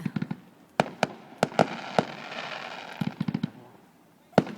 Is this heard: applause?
no